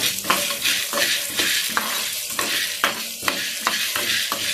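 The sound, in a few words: onions frying and stirring in pan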